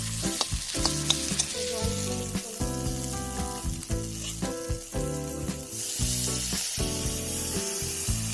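Gugli snail curry sautés dry in a hot pan, a close, continuous sizzle broken by repeated scraping stir strokes and clinks, with no talking.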